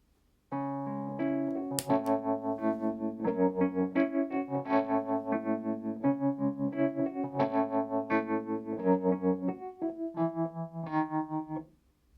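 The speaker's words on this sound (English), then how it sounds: "what I particularly want is the tremolo sound" Wurlitzer electric piano chords through a Tubemeister Deluxe TM20H tube amp play with a pulsing tremolo wobble and slight tube distortion, moderately loud and alone.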